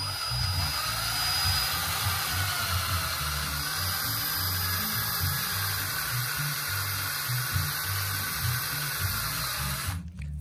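A steady, loud mechanical whine and rumble of a power drill boring into a Volkswagen 02S/02J case, running continuously for about ten seconds, cutting off abruptly at the end.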